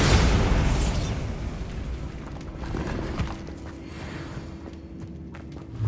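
A Bombarda explosion spell is cast in the Hogwarts Legacy video game, making a loud, deep boom at the very start that fades into a low rumble, with faint footsteps and pops afterward.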